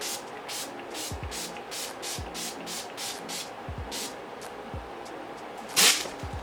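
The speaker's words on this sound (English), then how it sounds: "I'm gonna take the Urban Decay De-Slick Makeup Setting Spray and I'm gonna drench my damn self" Repeated quick hissing bursts of makeup setting spray in a steady rhythm, close by, with soft low thuds between them and one louder final burst.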